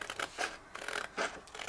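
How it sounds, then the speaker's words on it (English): Scissors snip through magazine paper in quick, close crisp cuts, three or four separate bursts with short pauses between them. "let's grab our scissors"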